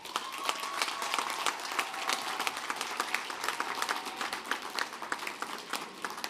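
Audience applauding graduates at a graduate and professional commencement ceremony, dense sustained clapping from a large crowd in a big hall, even and somewhat distant.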